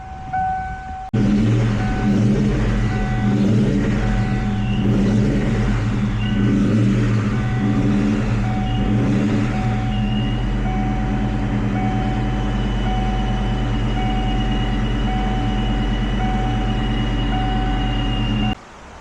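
A Ford Mustang Cobra engine idles steadily after an oil cooler and oil filter relocation install, a continuous low rumble with a faint whine, starting abruptly and running alone for about seventeen seconds before cutting off.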